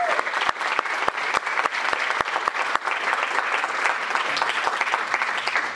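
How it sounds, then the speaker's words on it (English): Steady, dense audience applause fills a conference hall at a summit on aging, sharp individual claps standing out close by over the broad wash of hands, holding evenly to the end. "Let's give them a big round of applause."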